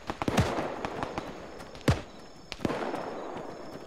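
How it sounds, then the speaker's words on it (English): Gunfire in Arma 3 during a rooftop fight with rioters, several sharp cracks in quick succession early on, a louder single shot near two seconds and another around two and a half, with rumbling tails between. "That was a bullet, and it came clear to us."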